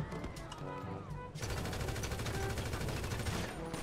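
Gunfire in GTA 5, a rapid continuous burst of loud automatic shots that starts abruptly after a quieter stretch and keeps hammering steadily until the end.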